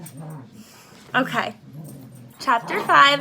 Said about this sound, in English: you might hear my dogs playing in the background